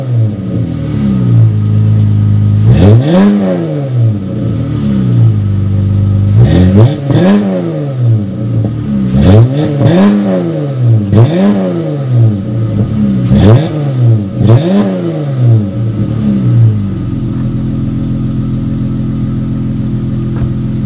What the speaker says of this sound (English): So that was a couple revs